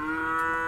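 A single Nelore cow moos in a short, loud, close call at a cattle fair in Campina Grande, Brazil. No one speaks.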